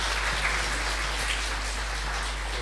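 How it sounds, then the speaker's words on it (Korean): Congregation applause at a Sunday worship service in a Korean church in Ho Chi Minh City, a dense, steady patter of many hands clapping that lasts the whole stretch, with no talking over it. "우리 하나님께 영광의 박수 돌려드리겠습니다."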